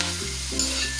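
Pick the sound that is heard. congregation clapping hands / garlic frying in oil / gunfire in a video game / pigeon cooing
garlic frying in oil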